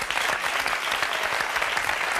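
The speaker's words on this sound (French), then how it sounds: "Je vous demande d'applaudir Anne." A studio audience at a French talk show applauds steadily throughout, a dense, continuous wash of clapping with no talk over it.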